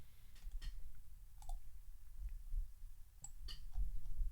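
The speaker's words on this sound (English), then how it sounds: "so maybe you can also hear the keyboard" Computer keyboard typing during a competitive programming session, light scattered key clicks in quick irregular bursts, close and fairly quiet, with no talking.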